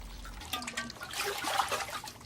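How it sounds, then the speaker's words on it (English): Water trickles and splashes softly as people rinse pots in village water tanks fed by a spring in Japan, irregular gentle dribbles and drips, close and fairly quiet, no talking. "People rinse out pots in the tanks and clean their freshly picked vegetables."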